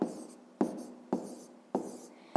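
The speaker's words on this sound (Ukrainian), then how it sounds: "Ну і давайте запишемо як правильно" A pen scratches across paper in five regular strokes, each starting with a sharp onset and fading out, close and clear with no voices.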